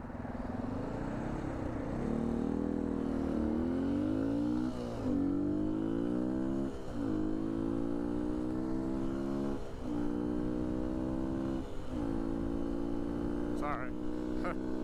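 A motorcycle engine drones steadily while riding, rising and falling in pitch through repeated gear changes and throttle swells, loud and continuous throughout, with a brief higher whine near the end.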